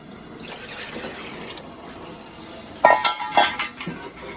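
A utensil stirs rice and water in a cooking pot for pulao in a home kitchen: a quiet scraping stretch, then a cluster of sharp metallic clinks and knocks close by.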